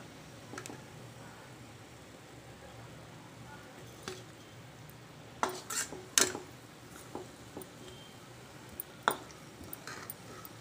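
Golden fried onions, just off the stove, are moved into a bowl with a spoon: soft scraping and a scatter of sharp metallic clinks and taps over a quiet room background.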